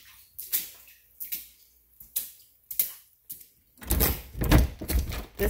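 A flood-soaked door being forced open against standing water: a series of separate thuds and scrapes at a steady pace, then a louder sloshing, scraping burst near the end, close by.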